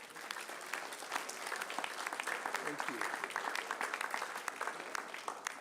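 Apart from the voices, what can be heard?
audience applause for police chief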